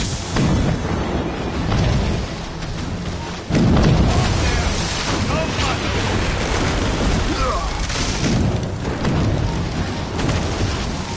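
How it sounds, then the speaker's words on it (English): Mortar explosions in the video game Assassin's Creed Rogue, a dense, continuous barrage of booming blasts with one heavier hit partway through, loud and rumbling throughout. "Chevalier is using mortars to stop Shay."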